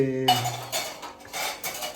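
Metal milk utensils and dishes clatter and clink steadily at close range as they are washed, after a short voice at the start.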